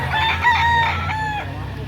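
Chickens and roosters at a chicken market call close by, with several bright clucks and crow-like bursts in quick succession and a busy background murmur beneath them.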